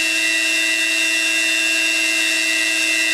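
A replica of a Ukrainian generator-motor spins at high speed, giving a loud, steady high-pitched whine with bright tonal hum that holds constant throughout.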